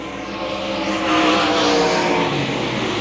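A race car leading the 1993 Winston 50 at Hamilton County Speedway roars close past, its engine note swelling loudly and then easing off, over the steady drone of other cars on the track.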